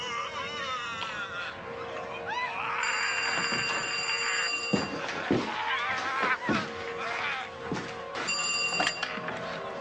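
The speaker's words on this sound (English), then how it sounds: "Come on, get that. That phone." A telephone bell rings in repeated bursts indoors, clear and fairly loud, with background noise and brief knocks around it.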